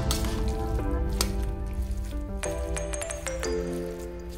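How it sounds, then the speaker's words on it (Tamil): Cooked rice being stirred together with thick curd, a steady wet squishing and squelching close by, continuous over a faint background tone. "போட்டதுக்கு அப்புறமா இதை வந்து நல்லா மிக்ஸ் பண்ணி விட்டுடலாம்."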